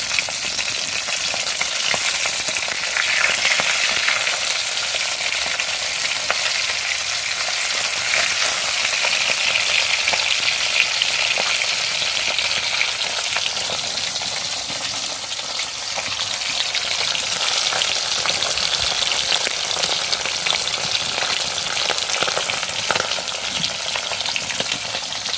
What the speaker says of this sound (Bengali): মাছটা আমার একদম সুন্দর লাল লাল করে ভাজা হয়ে গেছে